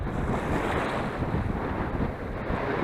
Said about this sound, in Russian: Ух ты, какая волна-то, а!